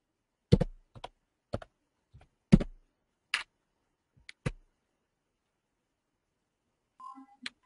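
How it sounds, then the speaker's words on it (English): A computer keyboard is typed on in a handful of separate, sharp clicks spaced irregularly across several seconds, close by in a quiet room, with a few faint taps near the end. "I just type."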